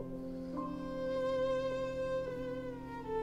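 A violin plays a slow, sustained melody quoting the opening of Debussy's Prelude to the Afternoon of a Faun within a nocturne, quiet and solo with smooth, connected notes.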